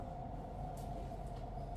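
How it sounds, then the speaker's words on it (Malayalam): A train rumbles steadily with a low droning hum and faint rattling, continuous and unbroken, with no talking. "അത് ട്രെയിനിൻ്റെ സൗണ്ട്"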